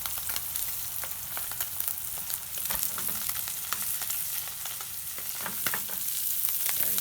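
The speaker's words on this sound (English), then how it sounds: "And you let them cook." Cajun-style butterflied smelts fry over high heat in a hot pan, giving a steady, close, continuous sizzle and crackle with occasional stirring clatter and no talking.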